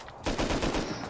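A brief, rapid burst of gunfire in the survival game Rust, several quick shots in a tight cluster lasting under a second, fairly faint.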